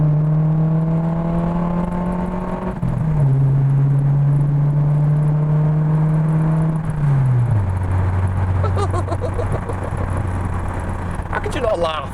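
A car engine drones steadily from inside the cabin, its pitch stepping down twice as the driver shifts gears, with road noise and faint rattles.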